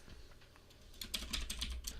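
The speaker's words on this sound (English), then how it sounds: "I'm going to start typing in the commands." Commands being typed on a computer keyboard while setting up Android Studio on Linux, a quiet run of crisp close key clicks that quickens and grows louder in the second half.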